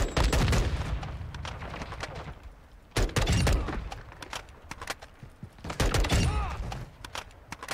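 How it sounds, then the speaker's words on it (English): Gunfire in Call of Duty: Modern Warfare comes in repeated loud bursts of rapid automatic shots with scattered single cracks between them, filling the whole stretch. "Took a round. Nice shooting, Tex."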